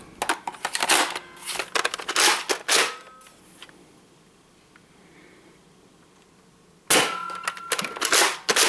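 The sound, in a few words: loading foam rounds into a Nerf Rival Apollo XV-700 magazine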